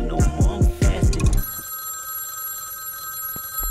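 A telephone bell rings in a quick burst of loud, rapid repeated strikes for about a second and a half, then fades into a faint steady tone over a low background hum.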